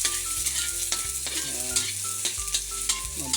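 Onion sizzling loudly in a hot wok as it is stirred, with repeated scraping strokes of the utensil against the pan over a continuous frying hiss, and no talk.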